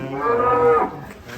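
Belgian Blue cattle on a farm give one long, loud, close moo lasting just under a second, which fades into quiet farmyard background.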